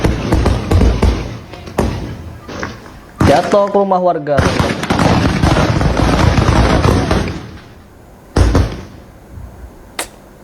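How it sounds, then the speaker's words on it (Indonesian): A rapid string of firecrackers crackles loudly in bursts, sharp pops tumbling together, with a person talking in between and after. "Tuh, mercon ini. Rentengan mercon."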